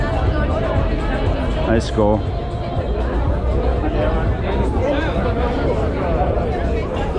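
A dense crowd chatters and murmurs on a Moscow street at night, a steady surrounding babble with a nearby voice speaking briefly over it.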